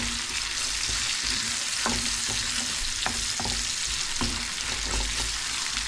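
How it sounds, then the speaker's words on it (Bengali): Onions sizzle and crackle in a hot pan for spinach curry, a dense steady frying hiss with scattered pops and a few stirring scrapes, heard up close and alone. "আর একটু ভাজবো ভালোভাবে"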